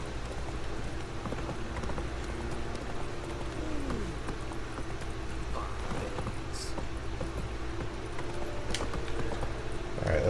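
Horse hooves clip-clop in The Witcher 3 as the horse walks along, a steady moderate rhythm set within game ambience and background music, with a player's voice talking over it.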